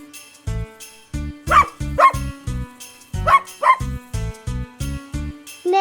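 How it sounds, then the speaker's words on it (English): Dog barking in a regular series of short, loud barks and yips, evenly spaced and close, with no other sound around them. "Dog."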